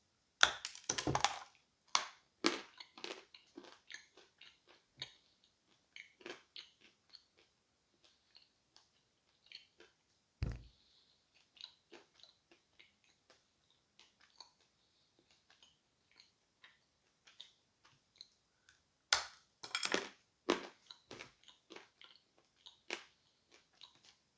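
Crunchy edible Uzbek clay is bitten and chewed up close, with sharp cracking bites followed by scattered, quiet crunching chews in near silence.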